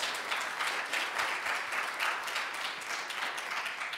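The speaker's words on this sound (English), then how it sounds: "So that's a big applause." Applause from a conference audience for the best poster winners at a EULAR meeting, a dense, even wash of many hands clapping, fairly distant and steady throughout.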